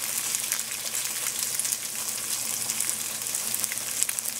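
Firm or extra-firm tofu wedges sizzle steadily in a hot pan as they brown, a constant close crackle and hiss with no voices.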